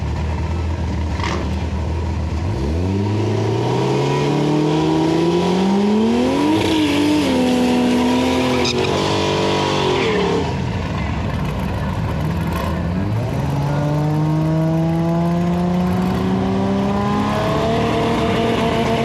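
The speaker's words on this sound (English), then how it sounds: "Ed Meyer is driving a 1969 Firebird. He'll be in the right lane" Drag race launch of a Supra and a 1969 Firebird: engines rev hard and climb through gears, a shift drop around the middle, then a second strong acceleration, loud and sustained with crowd and track ambience.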